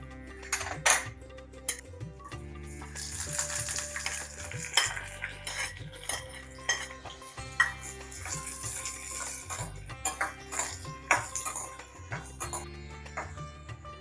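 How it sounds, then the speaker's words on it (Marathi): Raw mango pieces fry with cumin in hot oil while a utensil stirs and scrapes the pan. Metallic clinks and clatter come and go over a steady cooking hiss, fairly close and moderately loud. "कैरी 1-2 मिनिटं चांगली अशी फ्राय करून घ्यायची."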